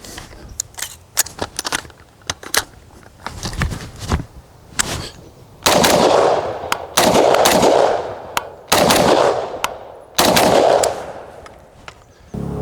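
Rifle fire in double taps at two targets from the 25-yard line, loud sharp paired shots with strong reports, bursts clustered in the middle, interspersed with fainter single cracks and range ambience.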